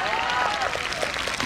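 Applause from a crowd of schoolchildren and guests at a school annual sports day, a dense burst of clapping lasting only a moment.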